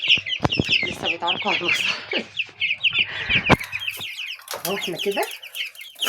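A flock of ten-day-old white broiler chickens chirps and clucks densely and continuously at close range, with someone speaking over them at times.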